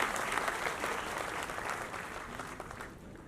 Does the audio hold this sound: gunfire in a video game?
no